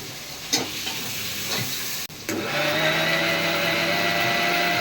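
Onions sautéing in a pan with turmeric powder and salt, a low sizzle broken by a few spoon scrapes and a short gap, then a steadier frying hiss with a faint hum, no talking.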